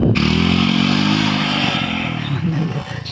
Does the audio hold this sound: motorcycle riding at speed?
yes